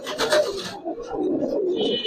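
Giribaz and colouring pigeons coo in a low, throaty rhythm close at hand, with a brief rasping rub near the start and a faint higher tone later, no talk.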